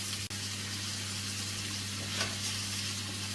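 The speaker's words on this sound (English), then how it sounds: "Then I'll just stir that around until the meat is browned." Ground meat and diced onion fry in a pan with a steady, close sizzle under a low hum, with a single sharp knock near the start and faint stirring scrapes.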